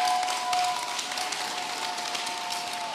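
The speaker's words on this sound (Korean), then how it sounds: "우리 스님께 다시 한번 큰 박수 부탁드리겠습니다" An audience claps for a Buddhist monk after a Dharma talk at an indoor event, a dense, steady wash of applause that holds at even loudness throughout.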